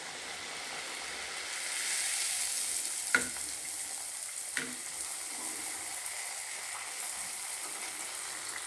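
Dough fries in oil with a steady hissing sizzle throughout, faint and even, broken by two brief sharp clicks of a utensil, with no talking.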